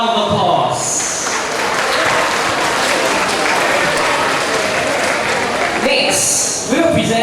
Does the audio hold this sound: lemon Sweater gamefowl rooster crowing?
no